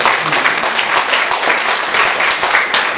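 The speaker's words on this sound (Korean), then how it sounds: "오늘 다 같이 박수로 축하하겠습니다." A church congregation at a Christmas thanksgiving service claps together for members' birthdays, a dense, loud, continuous round of applause with no talking.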